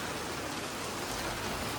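Rain falls steadily during a Dussehra celebration in Nakodar, a soft, even, continuous patter with no voices heard.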